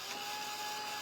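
A handheld dryer blows steadily on fresh paint on a stenciled hot cocoa craft sign, a constant close whooshing hum with no pauses.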